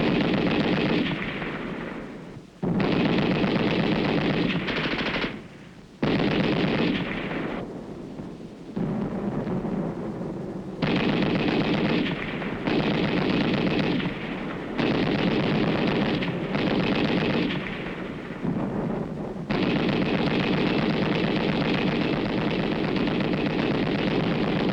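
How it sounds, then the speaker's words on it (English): Allied machine guns firing on an enemy-held small house during a 1951 Korean War counterattack: loud, continuous bursts of gunfire with brief pauses, harsh and sustained across the scene, no voices. "Allied troops open fire with machine guns on an enemy-held area"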